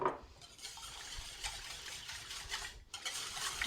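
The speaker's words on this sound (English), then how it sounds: "And now I'll whisk them together." Milk and other ingredients are whisked together in a bowl, a soft, continuous swishing and scraping with faint rhythmic strokes, quiet and close, with no speech.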